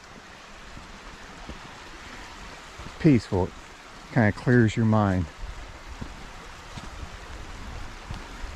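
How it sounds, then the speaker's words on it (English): Minister Creek flows with a steady, soft wash of water over an outdoor bed, continuous throughout, while someone speaks briefly over it. "Listening to the water flow."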